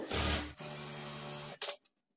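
A sewing machine stitches a lining blouse in two close, loud runs, a short burst and then a longer steady whirr, stopping with a few faint clicks.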